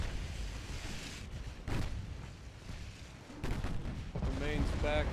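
Battleship secondary guns in a naval warfare video game fire in several sharp booming bursts spread across a few seconds, with a voice talking over them.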